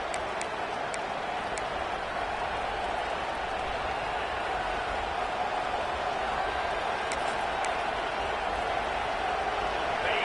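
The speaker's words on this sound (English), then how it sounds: "This Auburn crowd trying to conjure up a little magic here on third down." A college football video game stadium crowd at Auburn on third down makes a steady, continuous roar and cheer that fills the whole stretch, with faint ticking sounds scattered on top.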